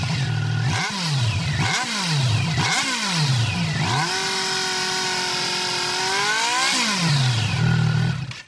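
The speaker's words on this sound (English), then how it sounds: "that triple soundtrack at the exhaust is a pleasant change from the norm" Triumph inline-triple motorcycle exhaust, loud and close: four quick throttle blips that rise and fall, then a long held rev that climbs slowly, one more blip, and a final surge. No one speaks.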